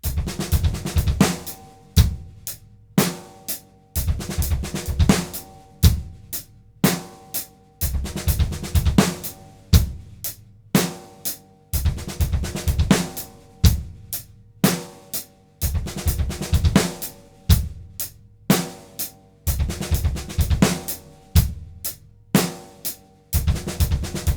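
A drumset plays a steady rock groove with kick, hi-hat and a snare backbeat that lands late on beat 2. The repeating pattern is punchy and close, with no talking.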